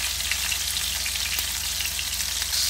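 Garlic, onion and tomatoes sizzling in a clay pot, a dense steady hiss of frying with small crackles throughout, close and loud, no voices.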